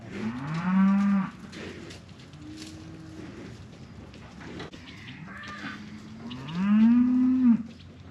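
Cattle in a pen mooing, two long loud low calls near the start and near the end, with quieter lowing and soft wind noise in between.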